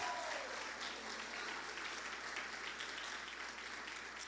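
A church congregation applauds continuously, a steady wash of many hands clapping that fills the whole stretch at moderate distance, without a pause.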